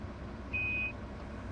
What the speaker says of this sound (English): Now, I heard the beep